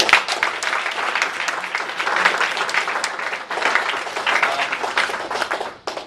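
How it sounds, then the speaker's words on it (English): Applause from an audience at a poetry and writers' open-mic evening, dense sustained clapping filling the room for several seconds before tapering off at the end. "another round of applause"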